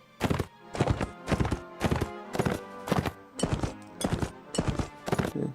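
A horse's hooves clop steadily as it is ridden in circles in the video game Mount & Blade Rebirth of Calradia, about nine crisp, evenly spaced thuds, close and clear with no talk over them.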